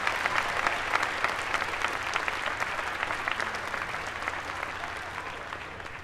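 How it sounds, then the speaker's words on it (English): An audience at a dual enrollment recognition ceremony applauds, dense continuous clapping from many hands, fairly distant and steady, slowly tapering. "Yeah, we can clap for that"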